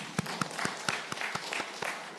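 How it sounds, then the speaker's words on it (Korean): Church congregation clapping during a Parents' Sunday service, a sparse run of distinct, fairly faint claps spread evenly across a couple of seconds rather than a dense ovation. "박수 해주시기 바랍니다"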